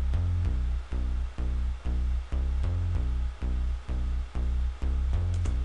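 A reverb-soaked synth pluck programmed in FL Studio for a South African hip hop beat plays a steady repeating pattern of about a dozen bright notes, each ringing into the next, close and loud with no voices.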